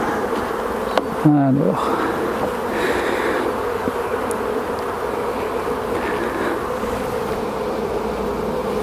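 Honeybees buzz steadily around an opened hive during a spring inspection, a close, continuous drone with a brief louder rustle near the start and a short spoken word early on.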